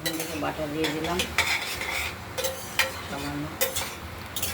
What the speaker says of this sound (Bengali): দেখতে থাকুন লাউটা নাড়াচাড়া দিচ্ছি